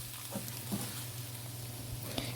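Baby potatoes and egg coated in masala sizzle quietly in a hot pan. Soft scraping stir strokes sound over the steady frying hiss.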